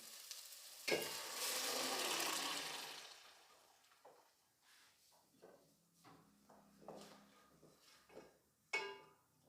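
Boiled peas and slit green chilli sizzle in a hot pan, a steady frying hiss at first that settles into softer bubbling and occasional clinks and stirring.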